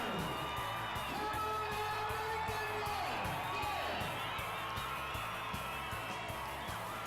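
Crowd at the 50th Mount Isa Rotary Rodeo cheering and whooping during a local buck jump ride, a steady wall of distant shouts and yells with a narrator speaking over it.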